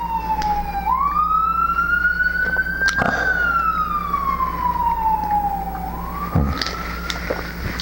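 A wailing siren sweeps up and down in pitch, loud and continuous over steady traffic rumble, like an emergency vehicle passing on a city street.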